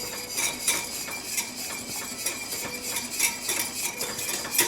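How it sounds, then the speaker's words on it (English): A whisk beats honey lemon sauce in a pan, producing rapid repeated metallic clinks and scrapes against the pan in a steady rhythm, close and moderately quiet, with no talking. "Just continuously whisk"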